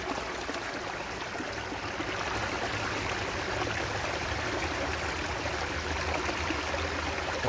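Water rushing steadily down a rocky stream slide, a constant close, dense wash with no breaks and a faint low hum underneath.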